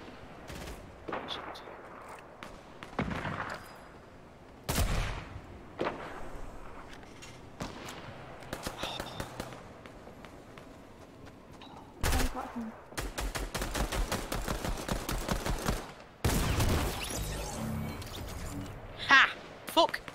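Gunfire in the video game Fortnite, with repeated bursts and single sharp shots from weapons, some rapid like a machine gun, coming in uneven clusters at varying loudness, with short quiet gaps between them.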